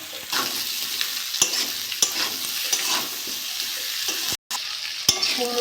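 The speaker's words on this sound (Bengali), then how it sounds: "কুমড়োটা দিয়ে একটু নেড়ে চেড়ে নিয়েছি" Pumpkin and potato pieces fry in hot oil in a pan, a continuous soft sizzle broken by sharp scraping stirs of a spatula, close and steady with no talking.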